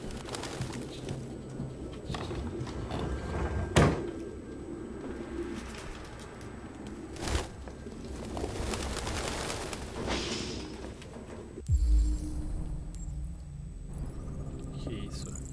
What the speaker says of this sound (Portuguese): Meu Deus, é muita pomba,